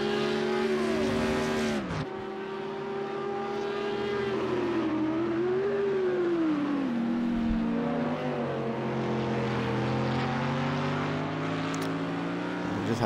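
GT3 race cars lapping the Red Bull Ring in Project Cars 2, including an Acura, engines droning and shifting pitch as they pass, a continuous loud motor whine with gear changes.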